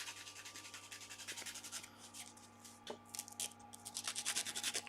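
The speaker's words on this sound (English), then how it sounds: "Just sanding the bottom off it." The bottom of a small wooden box is sanded by hand with 180 grit paper, giving quick rhythmic rubbing strokes, close and fairly soft, that speed up toward the end over a faint steady hum.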